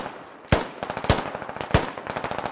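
Gunfire in a military shooter game: three sharp, loud single shots spaced about half a second apart, each trailed by a rapid rattle of quieter reports and echoes.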